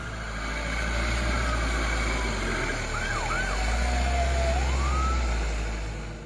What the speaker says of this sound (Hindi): लाल नीली बत्तियां जलाती एक एम्बुलेंस गांव में दाखिल होती है